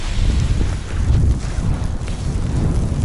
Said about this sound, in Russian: Вот так вот задувает.